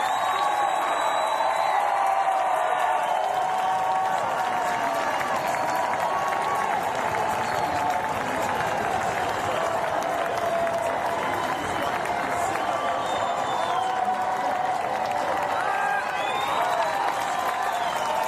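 Crowd in the stands at the Paris 2024 Paralympic para triathlon applauds and cheers a French silver medallist, a dense, sustained roar of clapping and shouts, loud and continuous throughout.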